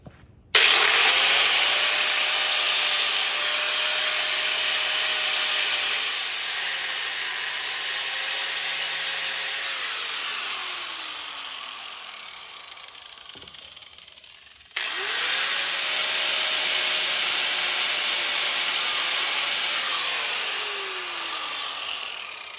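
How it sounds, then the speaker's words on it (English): Angle grinder working metal off the PTO lever shaft of an Allis-Chalmers D17 tractor, two long loud grinding passes with a whining tone that falls under load, separated by a brief pause. "I'm going to start grinding that mess off of there."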